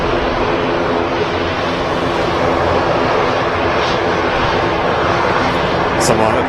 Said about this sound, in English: EasyJet just taxiing past now, which is an Airbus A320, operating to Jersey.